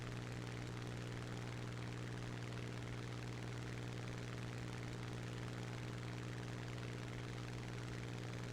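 A propeller plane in the War Thunder video game banks through a 180-degree rudder turn, its engine a steady, loud, even drone with no voices.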